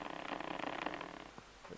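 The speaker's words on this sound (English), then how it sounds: "Sorry, that's the cat." A tuxedo cat purring steadily up close, a soft continuous rumble with rhythmic pulses that fades slightly toward the end.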